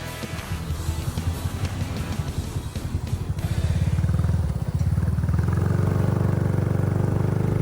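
A motorcycle ridden at night on a dark entrance road toward a countryside restaurant, its engine puttering close, then a louder steady drone from the rider's bike, with no talking.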